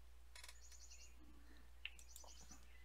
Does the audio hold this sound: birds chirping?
yes